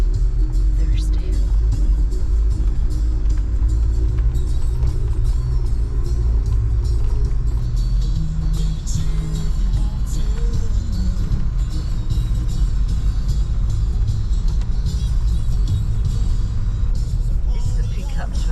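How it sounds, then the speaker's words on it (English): A pickup truck driving, heard as a continuous loud low engine and road rumble from inside the cab, with quiet, muffled voices underneath. "This is a pickup truck."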